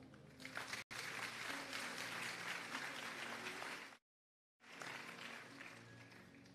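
A large crowd clapping at a convention grand finale, a dense continuous burst of hands that cuts out briefly near the middle and then resumes just as full.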